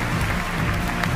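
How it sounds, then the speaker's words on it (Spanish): Dense crowd applause for the first princess at a university queen pageant, loud and continuous over a short stretch. "¡Un aplauso para ella!"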